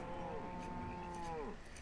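Cattle in the farming game Banished give a drawn-out, clear moo that bends downward at the end, heard alone over a faint background.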